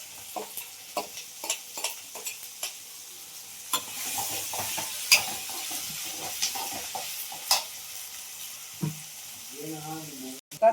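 Ginger garlic paste with cumin and chopped tomato frying in a pan for an okra curry, soft sizzling broken by rhythmic stirring knocks and scrapes, with a brief voice near the end.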